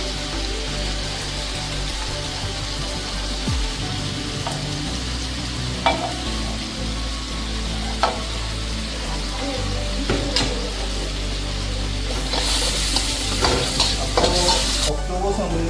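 Onion, ginger and garlic sizzle steadily in hot oil for an octopus curry, with repeated scraping stirs and spoon clinks throughout, close and continuous with no talk.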